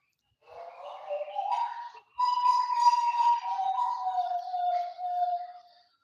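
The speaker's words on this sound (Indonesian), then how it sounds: "Nah, itu suara burung dari Papua." A bird from Papua in an aviary gives a long, sustained whistling call with gliding pitch, clear and alone against silence, preceded by a shorter rising note.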